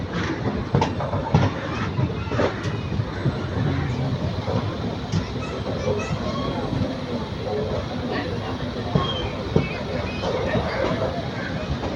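Busy platform crowd at Palakkad Junction railway station, a steady dense murmur of many voices with rail-yard clatter and scattered knocks throughout, close and continuous.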